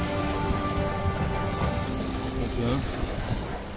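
A boat out on the open sea during a spearfishing trip, heard as a loud, steady wash of water and wind with a low mechanical hum running throughout.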